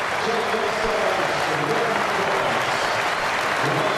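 A cricket crowd at a one-day international between England and Australia breaks into sustained, loud applause for Jonny Bairstow's century, an even wash of clapping throughout.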